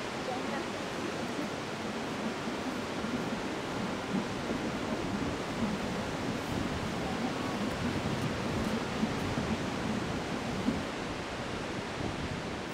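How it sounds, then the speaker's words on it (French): Skradinski Buk, the great waterfall in Croatia, roars with a dense, unbroken rush of water, loud and constant throughout, with no other sound standing out. "Guidés par le grondement de l'eau, nous arrivons devant Skradinski Buk,"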